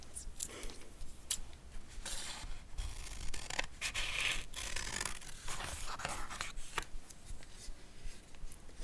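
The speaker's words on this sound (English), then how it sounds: "I was gonna grab these scissors to remove it." Scissors cutting away the plastic packaging from a silicone-covered kitchen masher, heard as close, quiet snips, crinkling and scraping in irregular bursts with no talk.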